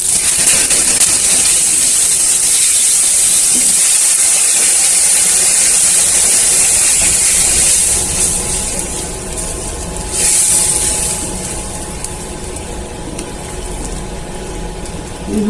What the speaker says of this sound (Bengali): নারকেল ভাজা হয়ে গেছে, দিয়ে দিচ্ছি টমেটো পেস্টগুলো।